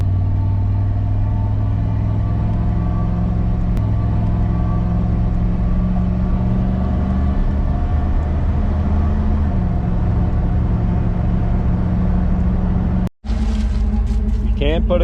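A Dodge Ram 5.9 Magnum pickup idles through a cheap knockoff Flowmaster exhaust with turn-downs after the rear end, giving a steady deep rumble that shifts pitch slightly midway before a brief cut.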